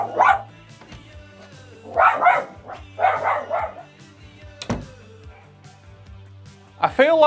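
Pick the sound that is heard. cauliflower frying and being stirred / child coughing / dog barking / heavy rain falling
dog barking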